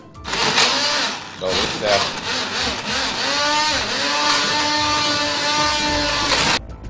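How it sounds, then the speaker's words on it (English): A hand blender whirs steadily while pureeing soup, its motor droning and shifting pitch, with a voice speaking briefly. "A hand blender is quite good, or you could use a liquidizer"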